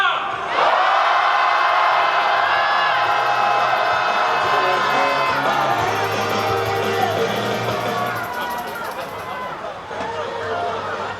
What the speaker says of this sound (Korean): 분노의 함성을 모아 국민의힘을 향해 다같이 함성 질러보겠습니다